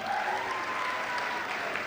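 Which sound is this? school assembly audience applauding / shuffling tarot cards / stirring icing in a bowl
school assembly audience applauding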